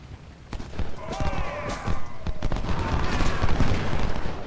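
Rifle fire from snipers and skirmishers in the Civil War game Ultimate General: Civil War at Chancellorsville: a scattered, crackling fusillade of mid-distance shots that grows denser, with game voices faintly underneath.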